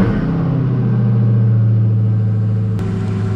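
A 2020 Dodge Hellcat Widebody's engine idles with a deep, steady rumble that swells and settles, loud and close with no talk over it.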